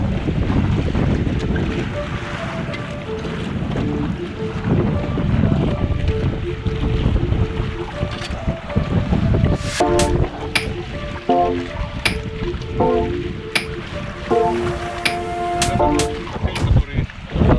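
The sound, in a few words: catamaran sailing on the sea, wind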